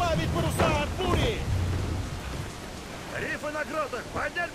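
A storm at sea in Assassin's Creed IV Black Flag: rain hisses and thunder rumbles around a sailing ship, while shouted voices cut in and out over the weather.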